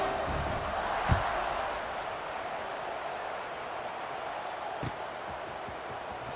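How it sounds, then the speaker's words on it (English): A stadium crowd in the College Football 26 video game keeps up a steady buzzing roar after a touchdown, with a couple of sharp thumps standing out over the continuous din. "this crowd is buzzing after that last score"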